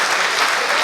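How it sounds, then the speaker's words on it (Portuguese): Church congregation applauding together, a dense, steady wash of clapping filling the whole short moment with no pauses. "Pode aplaudir."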